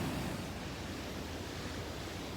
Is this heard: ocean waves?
yes